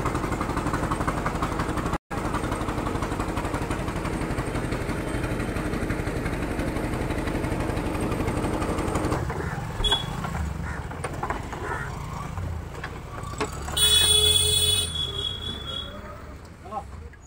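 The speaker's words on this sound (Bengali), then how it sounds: "এই যে দুখানা নৌকা জোড়া লাগিয়ে এরকম ফেরি বানানো হয়েছে" A ferry built from two boats lashed together, crossing the Ganges at Murshidabad, its engine droning steadily and loud throughout, with the tone thinning and a few higher mechanical sounds near the end.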